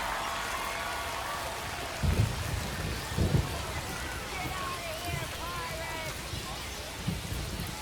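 Rain falls steadily during a baseball game in the MLB The Show 25 video game, a constant dense hiss with a few low rumbles, while commentators talk over it.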